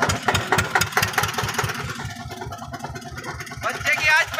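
An Eicher tractor stuck in the ground labours with a rhythmic thudding engine beat, loud and close, revving and straining, with people talking over it.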